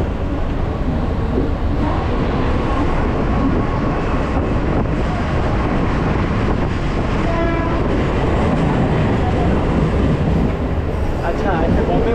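A crowded Mumbai local train rumbles along loudly and continuously, with rattling carriages and a brief horn-like tone, while people talk nearby.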